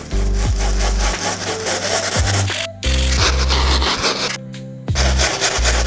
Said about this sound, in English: we're gonna go right into the painting and start scrubbing, like you're scumbling it in.